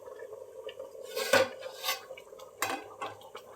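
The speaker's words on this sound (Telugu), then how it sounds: "ఇలా రెండు వైపులా పట్టుకొని కలుపుతూ ఉండాలండి" Andhra-style fish curry being stirred in a pot, with a few scraping and clinking strokes of a utensil against the pot in an irregular rhythm, close and moderately loud, with no talking.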